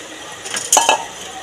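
Fried cauliflower, earlier fried with salt and turmeric, tipped into a pan for a Bengali aloo fulkopi rosha, giving a few short clinks and scraping clatters of a utensil against metal, close and moderately loud.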